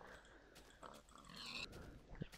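Pigs in Minecraft give faint, low grunting oinks, a few short calls scattered over quiet game ambience.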